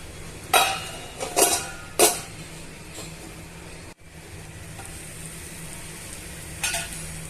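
Semiya upma cooking in a covered pan on a stove over medium heat: a faint, steady low simmer, broken by three brisk scraping, clinking bursts early on and one more near the end.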